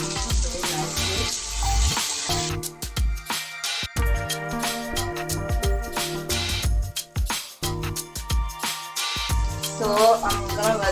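Prawns sizzle in a curry pan, a steady frying hiss partly masked by louder rhythmic background music throughout.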